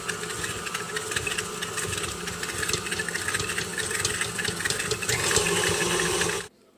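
An electric mixer whirs steadily while beating chocolate chip cookie batter, a dense motor drone with rattling texture that runs unbroken for about six seconds before cutting off abruptly.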